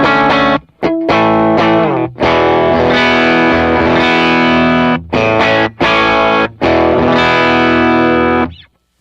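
Loud electric guitar through an Overdriver overdrive pedal used as a second gain stage, with sustained distorted chords ringing in phrases broken by short silences, alone with no talk.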